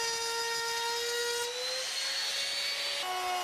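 A Bosch handheld power tool cuts a groove for a drawer bottom in timber. A loud, steady high whine holds throughout with slight shifts in pitch.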